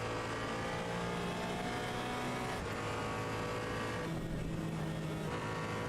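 A car in the Assetto Corsa EVO racing sim drives on steadily, its engine a continuous droning hum with shifting pitch and a brief lift partway through, loud and unbroken with no speech.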